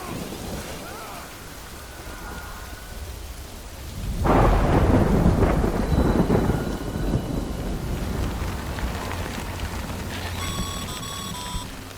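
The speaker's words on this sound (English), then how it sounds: "Good thing it was raining." Rain and thunder in the Death Stranding video game: a steady downpour hisses throughout, then a loud, close thunder crack bursts in around a third of the way through and rumbles on under the continuing rain.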